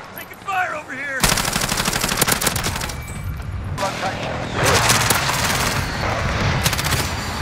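Rapid automatic gunfire erupts in a battle royale video game, with long loud bursts and brief pauses, close and aggressive, over a faint voice at the start.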